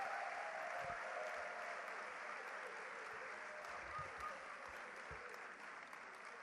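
Audience applause for a woman being honoured at a 2019 women-in-leadership event, a steady, moderately distant wash of clapping that holds evenly throughout with a few louder claps near the mic.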